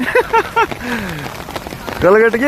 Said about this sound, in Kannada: ನಾವು ಚಿಕ್ಕ ವಯಸ್ಸಿನಲ್ಲಿ ನೋಡಿಲ್ಲ ಈ ತರ ಮಳೆನ